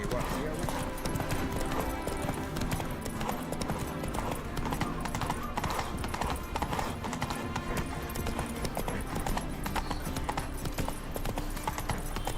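Roach, the horse in the video game Witcher 3, galloping with a fast, continuous clatter of hooves throughout, mixed with voices and game ambience.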